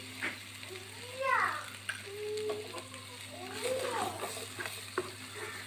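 Sliced onions sautéing in a pan for butter chicken, a low, fairly quiet sizzle with a few utensil clicks and scrapes, and a voice speaking partly over the cooking.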